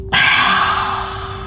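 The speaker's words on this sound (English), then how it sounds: "Exhale, light breath." A single light exhale during a breathing exercise, a soft airy breath that starts abruptly, then slowly tapers off, close and alone with a faint steady hum underneath.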